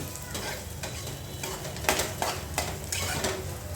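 Raisins frying in a hot pan while being stirred, a steady sizzle broken by several sharp scrapes and clinks of a spoon against the metal, close and with no talking.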